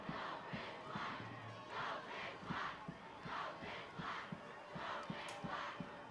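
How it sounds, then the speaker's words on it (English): A high school football crowd in blackout colors roars at Oak Grove's home stadium, the Den, in rhythmic surging chants with sharp claps or stomps, loud and sustained, heard from a distance with no voices standing out. "This blackout crowd making some noise here at the Den."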